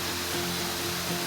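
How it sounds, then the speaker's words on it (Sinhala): A rushing waterfall in the Dunukaragoda rainforest pours with a constant, dense roar close by, unbroken and without voices. "මේ ඇලපාරේ සද්දය ඇහිලා අපි හොයාගෙන ආවේ."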